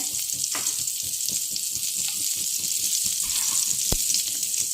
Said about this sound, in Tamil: அது பட்டை கிராம்பும் ஏலக்காய் கொஞ்சம் பொரியிற